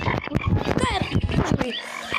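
Cartoonish frog croaks from a Roblox video game, a dense run of warbling, chirpy calls lasting about two seconds, close and fairly loud, with no talking over them.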